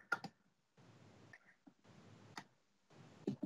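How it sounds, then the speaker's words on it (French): A computer mouse clicks in quiet sharp ticks, a few isolated clicks close by, with soft hissy noise bursts in between and no talk. "je clique sur 3 points"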